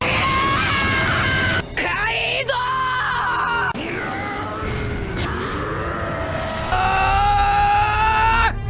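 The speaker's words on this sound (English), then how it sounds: "Screaming in fights" Anime characters scream and yell at full force during One Piece fight scenes: loud, sustained, strained cries that cut abruptly between shots and stay intense throughout.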